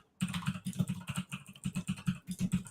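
Someone types quickly on a loud Razer computer keyboard, producing a dense, close run of sharp clacking keystrokes with no talking.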